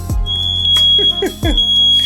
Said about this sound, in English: my pan is overheating, so the fire alarm went off